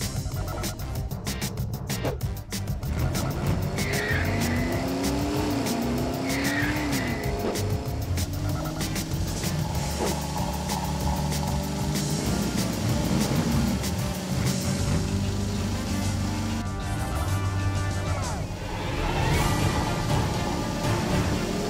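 Cartoon cars racing at night: revving engines rise and fall with whining pitch sweeps, tire squeals and skids, plus cars whooshing past amid a busy animated soundtrack, continuous and loud with no speech.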